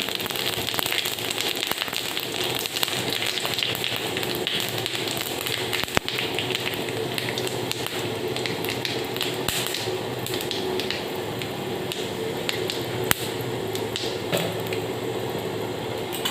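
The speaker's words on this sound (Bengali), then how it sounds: "তেলটা আমার গরম হয়ে গিয়েছে আমি একটু তেজপাতা দিলাম" A bay leaf sizzles in hot oil in a wok, giving a loud, close, continuous crackling hiss with a few sharper pops and no talking.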